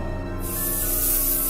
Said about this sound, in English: he doesn't forget to spray alcohol everywhere to disinfect when it's done